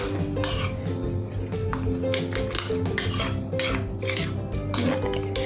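Omelette batter with green chili mixed in a bowl, heard as continuous quick clinking and scraping of a utensil against the bowl, close and fairly loud, with a steady hum underneath.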